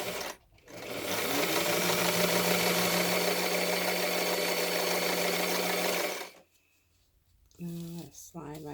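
A sewing machine stitches folded fabric with paper slid underneath for making mask ear savers, running in one steady, loud buzzing burst for about five seconds before stopping, then a voice speaks briefly.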